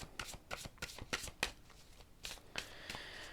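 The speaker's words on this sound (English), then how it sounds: "So I will pick now 3 cards." Tarot cards being shuffled by hand, a quick run of crisp riffling flutters and soft slaps of the deck close by, with no talking.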